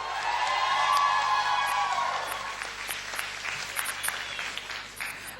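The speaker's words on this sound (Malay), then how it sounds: "Tepukan sekali lagi" A burst of applause from a concert crowd swells loudly at first, then thins into scattered clapping that gradually fades.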